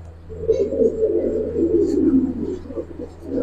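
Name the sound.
female Giribaz pigeon cooing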